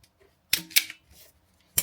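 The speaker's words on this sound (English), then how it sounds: "I'm going to use these cutters, cut them off and then strip him." Wire cutters snipping through electrical wires, two or three crisp close snips with short pauses between them, heard alone in a quiet room.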